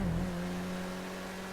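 A race car in GTA 5 Online accelerates, a steady engine drone with a pitch rise at the start, then a sustained fairly quiet hum with no talk.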